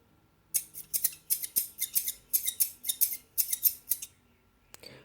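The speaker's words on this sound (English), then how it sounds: "You will see scissors cutting, a bird, and a balloon deflating." Scissors snip through paper in a quick run of about fifteen crisp metallic cuts, close and fairly loud, ending after a brief pause with one faint click.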